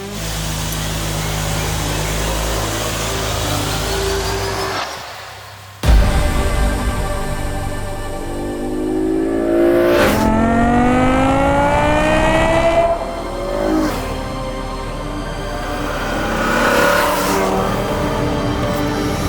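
A V10 BMW M5 with a swapped manual gearbox drives off, its loud engine rising through revs in repeated sweeping gear pulls, with a sharp surge after a brief drop and steady close mechanical roar.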